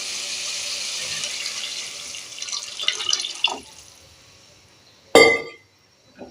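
A steady stream of water pours into a cooking pot for mushroom biryani for several seconds, tapers off, then a single sharp metallic clink rings out close by.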